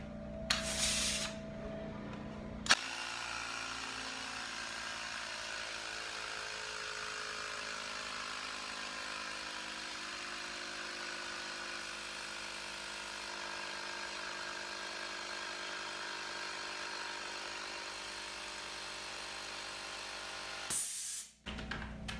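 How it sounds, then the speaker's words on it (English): Steady hiss and hum of a pump inflating a bicycle tire, held continuously for about eighteen seconds, fairly close, with brief knocks at the start and end. "you can continue inflating the tire back up to the recommended PSI"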